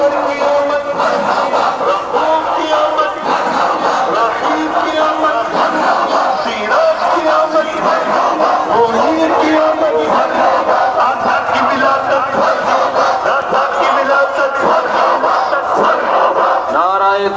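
A street procession (julus) in Munshiganj welcoming Eid Milad-un-Nabi: a large crowd chants religious slogans in unison, a dense, continuous roar of voices that stays loud from start to finish.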